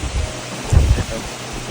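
Wind gusts roar across the microphone in broad, rumbling buffets, loud and close, with a stronger burst in the middle.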